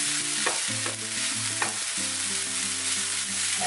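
Goan sausage chilli fry with fresh coriander being stirred in a hot pan, steady scraping and clattering strokes over a soft continuous sizzle, close and fairly loud, with no talking.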